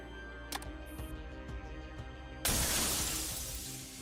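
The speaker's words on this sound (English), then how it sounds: "The key in Erma's hands shatters in a million pieces" In the Girls' Frontline video game, a key shatters into pieces as a sudden bright burst of breaking noise, which then sustains and slowly fades over an ambient game soundtrack.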